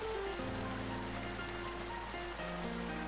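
Steady rain in the noble city of Jenise in Labyronia, a continuous soft hiss of falling water under a gentle melodic game tune.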